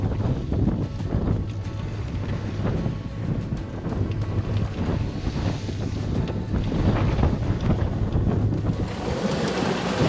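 Strong wind roars steadily over a sailboat out at sea as it turns directly into the wind, a loud, constant buffeting rush with faint water wash beneath and no voices.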